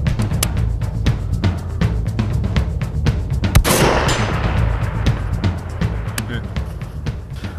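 A single loud long-range precision rifle shot cracks out midway, followed by a rolling, fading echo, amid a steady patter of clicks and outdoor background noise.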